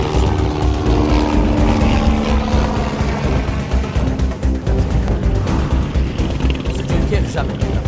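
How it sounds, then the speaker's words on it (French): A firefighting helicopter closes in over a large wildfire, its rotor and engine making a loud, steady, churning drone that fills the whole stretch without a break. "Là on voit que l'hélico se rapproche."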